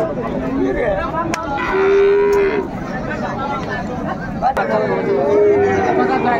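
A cow moos twice with long low calls amid a busy cattle market crowd, people chattering loudly all around.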